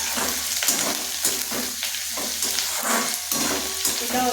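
Capsicum and green chillies fry in a hot pan with a steady broadband sizzle, broken by repeated scraping stirs at a near, moderately loud level with no voices.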